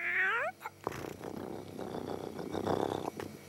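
A cartoon cat lets out a short rising meow, then purrs in a low, rough, continuous rumble at close range, with no talk.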